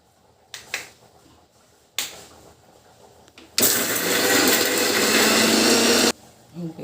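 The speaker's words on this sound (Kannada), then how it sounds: "ಆಯ್ತು, ಮಿಕ್ಸಿ ಮಾಡ್ಕೊಂಡು ಬರಬೇಕು" A mixer grinder (mixie) grinding a spice paste of turmeric, green chillies and salt: a few faint knocks and clicks, then a loud, steady whirring roar for about two and a half seconds before it stops abruptly.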